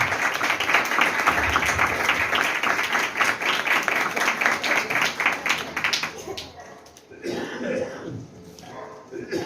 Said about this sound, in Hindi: खास करके टीचरों के लिए जोरदार तालियां बजाइए